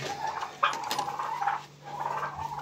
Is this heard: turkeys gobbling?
yes